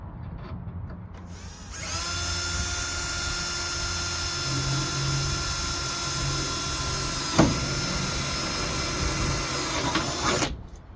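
A power drill whines steadily for about nine seconds as it bores through aluminum, starting abruptly and cutting off near the end, close and loud.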